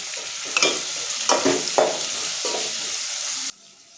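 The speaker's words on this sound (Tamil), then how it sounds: "தக்காளி வதங்கட்டும்" Tomatoes sizzle steadily in a hot pan while a utensil scrapes and stirs a few times, then the frying sound suddenly drops away.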